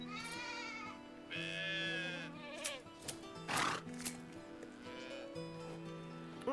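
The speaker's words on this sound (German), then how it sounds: "Wo ist mein letztes Schaf?" Sheep in the medieval farming game Medieval Dynasty bleat several times in a row, close and fairly clear over faint ambient game sound with some soft thumps.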